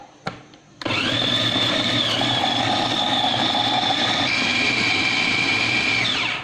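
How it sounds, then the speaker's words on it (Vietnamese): After a few brief clicks, a food processor grinding a shrimp and pork spring roll filling starts up and runs with a loud, steady high-pitched whir, its pitch shifting slightly as it grinds. "Bây giờ mình sẽ bắt đầu xay nha."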